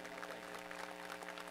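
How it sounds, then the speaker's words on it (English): Applause from an audience at a high school graduation ceremony, steady and fairly faint, with a continuous pattering of clapping throughout. "let's give him a round of applause"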